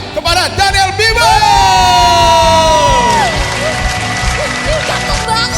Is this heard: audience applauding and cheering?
yes